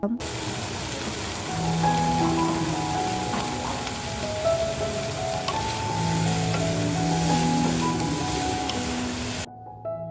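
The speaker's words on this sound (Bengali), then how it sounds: "ভাজার জন্যে ফুলকপিটা বসিয়ে দিই। প্রথমে তেল, তারপর নুন, আর অল্প পরিমাণে হলুদ আর লঙ্কার গুঁড়ো দিলাম।" Cauliflower fries in hot oil with salt, turmeric and chili powder, giving a dense, continuous sizzle up close while a spatula stirs and scrapes now and then. The sound cuts off abruptly near the end.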